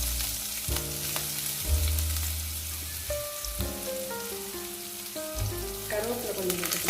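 Chillies with crushed ginger and garlic frying in a pan for bread chilli, a steady close sizzle and crackle running throughout.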